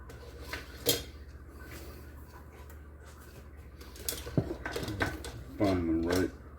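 Kitchen clatter of utensils and pans being rummaged through while bacon bits cook in butter for a scrambled omelette, with scattered clinks and knocks at close range and some spoken voice at the end.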